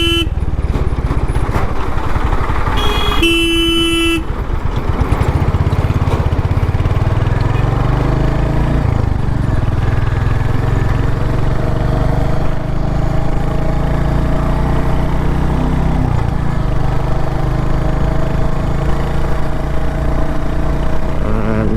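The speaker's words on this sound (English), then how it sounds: "The exhaust note is quite burbly. It's nice. It's a short and stubby, sporty exhaust." A Royal Enfield Hunter 350 motorcycle with a short, stubby sporty exhaust idles with a steady, burbly thump, loud and close throughout, with a brief high electronic beep early on.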